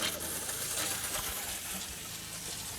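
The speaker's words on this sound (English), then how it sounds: "So if I want to turn the shower on" Water sprays steadily from the shower in the small bathroom of a 2021 320-S camper, a continuous close hiss and splash.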